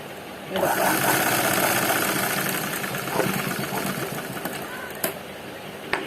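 A domestic sewing machine runs steadily at close range as it stitches a gathered frill onto a plain nightie, with a loud continuous whir and a couple of sharp clicks near the end.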